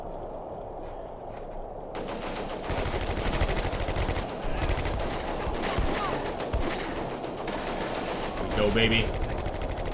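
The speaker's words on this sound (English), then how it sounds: "We're firing armor-piercing shells at infantry." Machine-gun and rifle fire from armor-piercing shells in the WWII strategy game Combat Mission: A Bridge Too Far, continuous rattling bursts and sharp shots throughout, with someone speaking briefly over the gunfire.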